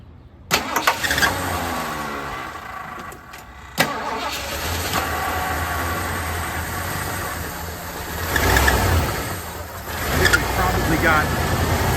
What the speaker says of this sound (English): you can hear it. It runs really nice. Getting on all 8 cylinders now.